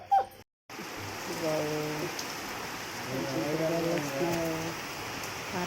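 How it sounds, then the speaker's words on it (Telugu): Heavy rain patters steadily on surfaces nearby, a constant wash broken by a short dropout, while a dog whimpers and voices are heard over the downpour. "చూడండి చాలా గట్టిగా వస్తుంది వర్షం"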